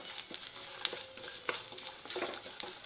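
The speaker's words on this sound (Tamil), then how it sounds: "நல்லா பொரிஞ்சு வருது" Ingredients for an eggplant (kathirikai) curry frying and being stirred in a pan, a soft steady sizzle broken by scattered scraping and tapping from a spoon, quiet with no talk.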